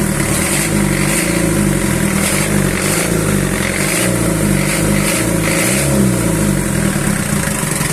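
An old-model 4D30 diesel engine runs loud and close, a steady rumbling drone with a faint rhythmic pulse throughout and no speech.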